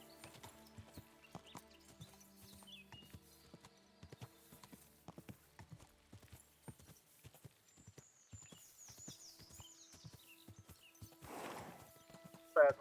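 Horse hooves clip-clop in the video game Kingdom Come Deliverance 2, a faint steady walking rhythm running under scattered talk, with a brief louder burst near the end.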